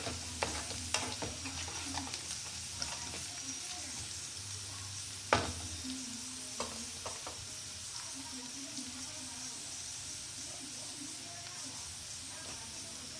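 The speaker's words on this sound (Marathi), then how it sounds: "आणि परतून घेऊया थोडा कांदा" Onion sautéing over high flame in a pan, a faint steady sizzle and hiss with scattered spoon scrapes and one louder knock against the pan, close but quiet, no talking.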